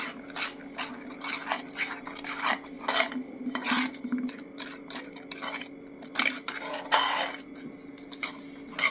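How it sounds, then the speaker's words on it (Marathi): A spoon stirs and scrapes a vegetable cheese noodle mixture with rice flour and salt in a pan, making repeated close metallic scraping strokes in an uneven rhythm. "आपण एकजीव करून हलवून घेऊया"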